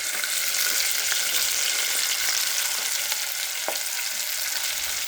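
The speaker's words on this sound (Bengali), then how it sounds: "আমি এটা পুরোটাকে ফ্রাই করে ফেলবো তেলে। এখন তেলটা অনেক গরম হয়ে গেছে" Tilapia fish frying in very hot oil, a dense, loud, continuous sizzle and crackle close by with a few brief sharper pops, no voices over it.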